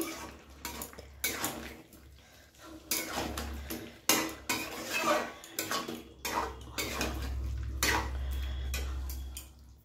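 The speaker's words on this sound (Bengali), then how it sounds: "গরম মশলাটা দিয়ে ভালো করে একটু মিশিয়ে নিচ্ছি" A spoon scrapes and clatters against a pot as garam masala is stirred into jackfruit and prawn curry, giving repeated close metallic knocks and scrapes over a low steady hum, with no talking.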